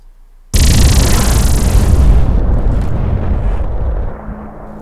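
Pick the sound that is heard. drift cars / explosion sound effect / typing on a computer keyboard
explosion sound effect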